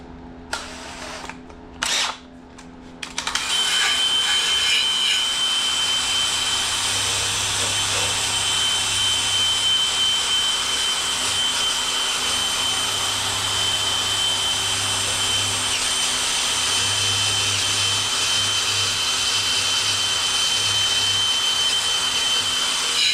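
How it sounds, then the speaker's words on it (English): A power-driven wire wheel brush scrubbing carbon from the combustion chamber of a Snapper push mower engine, a loud continuous whirring grind that runs steadily after a few brief starts, close up and alone without talk. "we'll go ahead and get the wire wheel, the wire brush, and let's clean off that combustion chamber"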